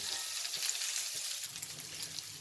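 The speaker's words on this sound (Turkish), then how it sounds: "Vallahi şu cızırtı sesinin hastasıyım." İnegöl meatballs fry in hot oil with a dense, steady sizzle and crackle, close and continuous, with no voices over it.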